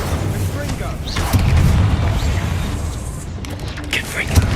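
A Bombarda spell explosion in Hogwarts Legacy during a spider fight, a rumbling blast that swells and lingers with crackling debris, loud and near.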